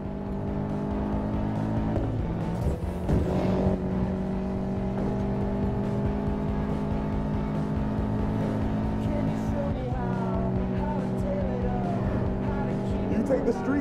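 Race cars roar through a Need for Speed Payback street race toward an airfield, engines droning steadily and loud with shifting revs and tire noise throughout, under game music and occasional spoken lines.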